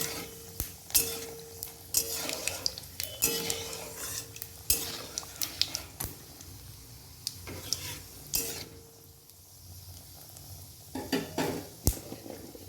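Bay leaf, four green cardamoms and cinnamon crackling in hot oil as they are stirred, with sharp clinks of a metal spoon against the pan over a light sizzle, close and uneven, no talking.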